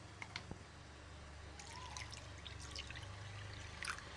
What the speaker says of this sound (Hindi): अब इसमें हम थोड़ा सा ठंडा पानी ऐड करेंगे जिससे नींबू का खट्टापन निकल जाएगा